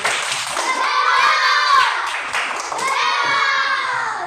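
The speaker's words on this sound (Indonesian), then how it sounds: "Ya, tepuk hebat kepada kelompok ini" Children in a classroom chant in unison while clapping for a student group, in two rhythmic phrases with a brief pause between them. The hand claps sit close under the loud young voices.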